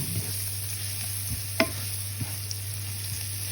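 Ingredients in a frying pan are stirred over a steady low hum, with a few sharp scrapes and knocks of the utensil against the pan and a faint sizzle underneath.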